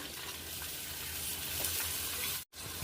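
Onions and green chilies frying in groundnut oil, a steady sizzle under faint stirring, with a brief dropout near the end.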